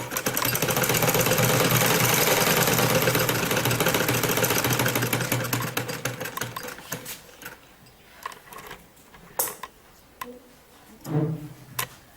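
A sewing machine stitches a sleeve, running loud and fast for about six seconds before slowing and stopping, followed by scattered quieter clicks and handling noises.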